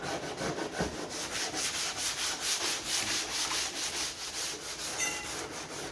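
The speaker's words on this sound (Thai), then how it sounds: "จะขัดแบบนี้ไปเรื่อย จนกว่าจะได้รูปได้ร่างสวยนะครับ" Hand sanding a surface with steady back-and-forth rubbing strokes, a close, continuous scratchy rasp in an even rhythm with no talking over it.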